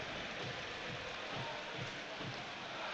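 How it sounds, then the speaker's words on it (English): Heavy rain drumming on the stadium roof at King Power during a Leicester football match, a dense, steady hiss with faint rhythmic thumps underneath, continuous and fairly distant, with no talk over it. "You can hear the rain hammering off the roof here at the King Power"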